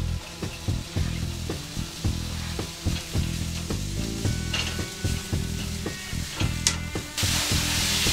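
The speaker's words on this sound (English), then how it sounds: "Pan's getting hot, so I'm good and ready to put in our diced onion and garlic." Diced onion and garlic sizzling in oil in a hot pan for egg salad, a loud continuous crackle broken by rhythmic scraping strokes of a turner, with no talking.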